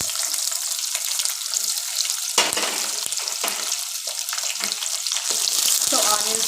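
Chopped onions sizzling and hissing in hot oil in a pan for jeedipappu upma, with steady frying crackle and a few stirring scrapes close by.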